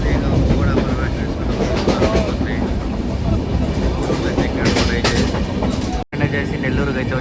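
A train pulls into Nellore station on the Tirupati to Vijayawada line, a loud steady rumble with rhythmic wheel clatter and hiss, voices mixed in, and a brief dropout near the end.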